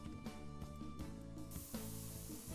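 A spray can hisses steadily in the Spray Paint Simulator video game. The broad hiss starts partway through and continues over layered, sustained game music.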